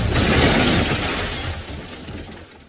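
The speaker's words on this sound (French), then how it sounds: "Soudain, dans un grand bruit, la chronocapsule s'écrase." A loud, noisy crash bursts out at once and slowly fades over a few seconds, with a shattering, breaking texture.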